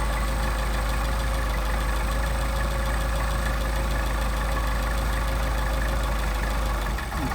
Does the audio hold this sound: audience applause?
no